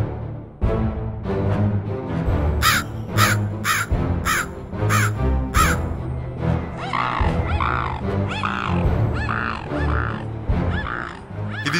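A crow caws loudly over background music in a Telugu children's animated story, sounding a rapid run of harsh caws and then more spaced calls.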